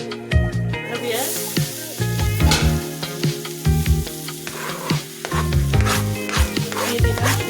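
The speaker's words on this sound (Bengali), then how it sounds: "পাতাটি দিয়ে আমি ভালোভাবে নাড়াচাড়া করে নিই" Loud, close sizzling and stirring of bean vegetable frying in a pan with fresh coriander leaves, a busy crackling hiss broken by repeated scraping strokes of the spatula.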